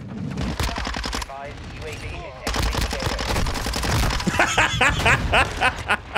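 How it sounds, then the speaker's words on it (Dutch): Dense automatic gunfire from Call of Duty: Modern Warfare 2 on the Shipment map, loud rapid bursts and cracks with a brief lull, mixed with game effects and a voice talking. "ik zit gewoon te schieten, joh"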